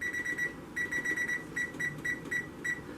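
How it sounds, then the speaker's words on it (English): A kitchen timer beeps in short, shrill, high-pitched chirps in quick irregular runs, like buttons being pressed to set it, fairly close and alone over faint room noise. "And I'm going to set my timer here"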